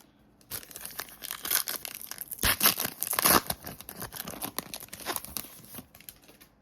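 Cardboard trading card boxes being ripped open by hand, a close series of rough tearing and crinkling bursts that peak loudly midway, with no talking.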